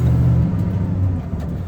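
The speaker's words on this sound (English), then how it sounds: "Car crisply goes into drive, very responsive." A 1974 Buick Century Luxus engine rumbles steadily and close as the car drops into drive and pulls away, a low, continuous, fairly loud drone with slight shifts in pitch.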